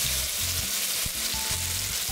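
About a spoonful of cooking oil sizzles and crackles steadily in an iron wok over high heat, a continuous close frying hiss with faint low clinks beneath.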